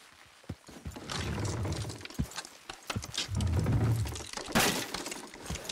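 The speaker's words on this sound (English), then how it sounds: "Good horse, this way!" A horse's hooves in the video game Red Dead Redemption 2 clop in an uneven rhythm of sharp hits, mixed with rumbling game sounds and heavier thuds.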